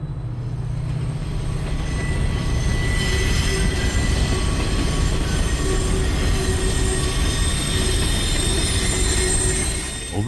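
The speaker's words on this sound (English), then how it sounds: "Overtaking the beat train, one of the longest dedicated trains we'll see today." A model railroad train runs along a large club layout, its wheels rolling and squealing steadily in a continuous, fairly loud rumble for the whole stretch, with no talking.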